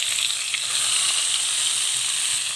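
Grated ash gourd fries on a medium flame for halwa, giving a steady, close sizzle and hiss with no voices throughout.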